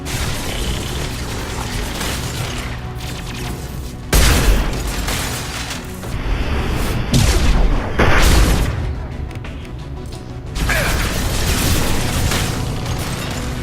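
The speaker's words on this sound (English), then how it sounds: "Shotgun time." Loud shotgun blasts ring out during a Mass Effect 2 firefight, with heavy booming shots near 4, 7 and 8 seconds over constant gunfire and battle noise.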